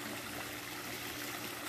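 A garden waterfall in an orchid garden, its steady, soft rush of falling water filling the clip without break at low, even level.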